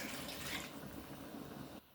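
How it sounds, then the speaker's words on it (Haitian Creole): Water is poured into a cooking pot, a soft steady splashing trickle that runs for most of the moment and stops abruptly near the end. "Vider de l'eau."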